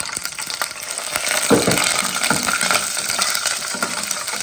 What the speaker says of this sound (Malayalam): അപ്പോൾ ആദ്യം ഇത് രണ്ടും ഒന്ന് ഫ്രൈ ചെയ്യാം.